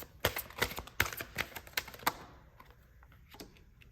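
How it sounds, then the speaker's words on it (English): Tarot cards are shuffled and drawn in a burst of sharp, rapid, close snapping clicks for about two seconds, then fading to a few softer, sparse taps. "So let's pull some more cards and see what comes up."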